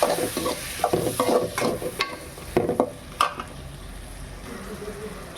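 Chopped tomatoes frying in a fish curry masala for a fish iguru, with a spoon stirring and scraping through the pan in repeated strokes over a steady close sizzle.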